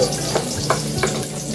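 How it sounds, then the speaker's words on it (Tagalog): Onions sautéing in a pan for yaki sushi, giving a steady close sizzle and frying hiss with a few soft stirring clinks, without talk. "Medyo papulahin lang ng kaunti yung ating sibuyas para lumabas yung kanyang aroma o yung kanyang bango"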